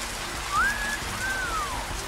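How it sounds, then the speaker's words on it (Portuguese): Steady rain falls in a Federal District region of Brazil, a continuous broadband hiss of drops on surfaces, with two faint rising and falling whistles over the rain. "Tá caindo chuva."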